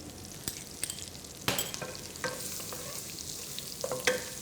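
Chopped garlic fries in butter over high heat while a wooden spoon scrapes and stirs it in several short strokes over a soft, faint sizzle.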